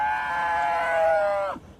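One penned beef cow on a Texas ranch calls out in a long, steady, loud bawl that holds for about a second and a half before cutting off abruptly, with no talking.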